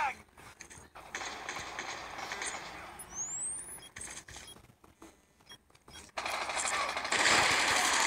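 Gunfire in the Call of Duty Mobile video game comes as scattered bursts of shots, then a louder, denser stretch of firing and game noise near the end, with a brief whistling streak in the middle.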